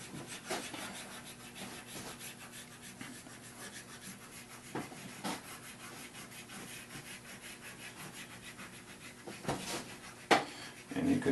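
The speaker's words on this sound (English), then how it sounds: "you can see from the way I'm rubbing it in, this is a cold block, it's a hard wax" Hard cold-block ski wax is corked onto a ski base, producing a steady, close rubbing and scrubbing with rhythmic back-and-forth strokes and a few light knocks, fairly quiet, with no voices.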